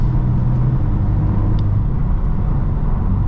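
A 2020 BMW M4 CS with an inline-six cruises in drive, its engine and road noise forming a loud, steady low rumble inside the cabin.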